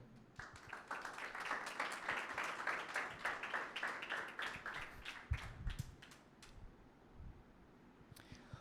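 A church congregation at a Sunday meeting of the Sons of God Church claps in a steady, rhythmic applause that is fairly faint and distant, tapering off toward the end with a few last claps.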